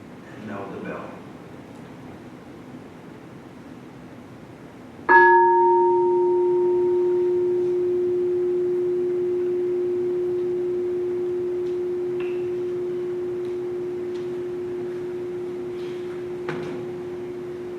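A single bell struck once during a Sunday service, ringing out clear and sustained with a long, slowly fading hum that carries on alone for many seconds after the strike, preceded by faint talk.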